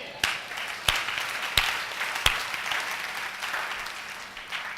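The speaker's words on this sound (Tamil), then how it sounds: "கைத்தட்டு." Scattered hand clapping from a church congregation at a Sunday service, with a few sharp distinct claps standing out over a soft, fading patter of clapping.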